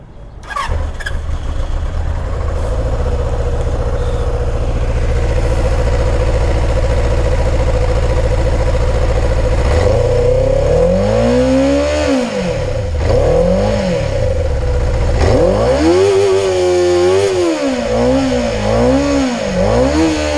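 A Benelli 600GT motorcycle engine starts and settles into a loud, steady idle, then revs repeatedly through its exhaust, with rising and falling sweeps close to the microphone.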